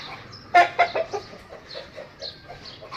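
Thai Aseel chickens cluck inside a cage, a few sharp close clucks followed by softer repeated clucking calls, with light background noise.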